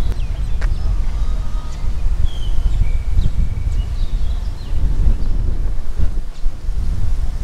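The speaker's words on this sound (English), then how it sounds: "at least you can feel the wind that feels so good" Wind gusting outdoors at an ancient city site in Thailand, a steady, close, rumbling buffet across the microphone with soft rustling throughout and no voices.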